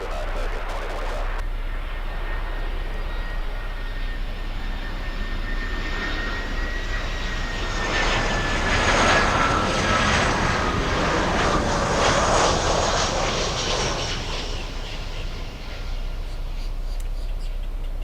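An American Airlines jet on short final to runway 12 at Miami airport, heard as a steady, moderately loud engine roar that swells midway through and then eases, with no talk.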